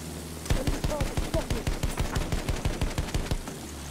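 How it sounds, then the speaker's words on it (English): Rapid machine-gun fire from an enemy plane in Battlefield 1, a steady burst of evenly spaced loud shots running for about three seconds after a brief quiet start. "Enemy plane! Watch it!"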